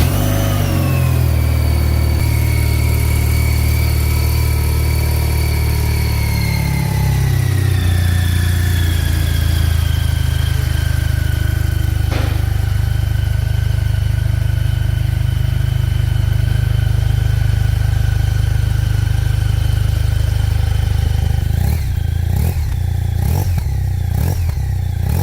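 A BMW R1290 motorcycle engine runs loud and close, revving with falling pitch that settles into a steady rumbling idle, followed near the end by several quick sharp blips of the throttle.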